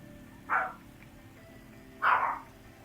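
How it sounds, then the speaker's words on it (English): A dog barks twice, the two barks about a second and a half apart, sharp and fairly close over a faint low background hum. "My dog is barking at something."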